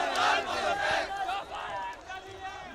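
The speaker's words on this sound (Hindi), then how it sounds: "बेहद उग्र गुस्सा है भीड़ और नारेबाजी मैं सुनाता हूँ" A large, angry protest crowd in Kolkata near the Nabanna building, against the state government, chants and shouts slogans in a loud, continuous roar of massed voices.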